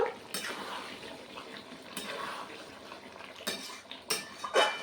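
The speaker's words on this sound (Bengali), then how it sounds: "আমি এবারে ঢাকা দেবো না, এভাবে কষে নেব।" Mutton curry being sautéed in an uncovered pan, with a soft continuous sizzle broken by several sharp spatula scrapes and clinks against the pan.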